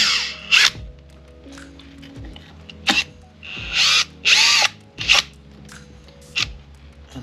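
A power drill with a 7 mm socket backs bolts out of a Ford Transit seat base in several short, loud whirring bursts with pauses between them, over a steady low background hum.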